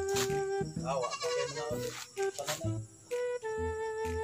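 A goat bleats several times in quick wavering calls on a mountain hike while gathering vegetables, close and fairly loud, with people talking in between.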